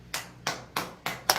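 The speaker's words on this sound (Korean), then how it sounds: "서 목사님 박수 한번 쳐줘요." A church congregation claps for a pastor with five crisp, evenly spaced claps in a steady rhythm, close and fairly quiet.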